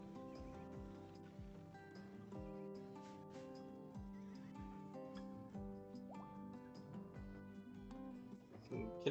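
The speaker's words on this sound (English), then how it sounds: "why do we have so many fucking horses?" Horses whinny repeatedly in Rimworld, a colony video game, the neighs rising over a steady bed of tonal game music with soft clip-clop hoof beats; no one speaks.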